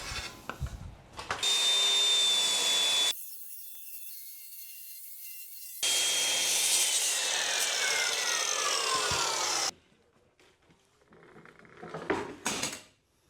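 A power saw cuts through plywood in an abandoned bank during a Murphy bed build, with two loud, sustained whining passes that cut off abruptly, followed by quieter knocks and handling sounds near the end.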